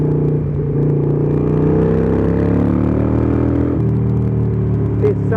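Harley-Davidson Iron 883 motorcycle engine running loud and close, a steady throbbing drone whose pitch climbs and then shifts as it revs and changes gear.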